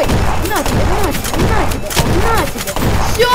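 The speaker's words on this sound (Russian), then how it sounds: "А мы ему в спину подойдем и выстрелим." Gunfire in the Roblox game Jailbreak comes as a rapid series of loud, evenly spaced shots with game music underneath, all close and dominant.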